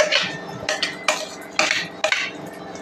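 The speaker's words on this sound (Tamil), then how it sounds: "கீரையில் போட்டு சாதத்தை கலந்துக்கிறேன்." A spoon clinks and scrapes against a pan while rice is mixed into cooked sorrel greens, with several distinct clatters spaced about half a second apart over soft background noise.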